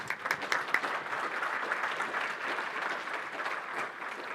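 Steady applause from a conference audience at a speaker competition, a dense patter of clapping at moderate distance, fairly faint and continuous throughout without voices.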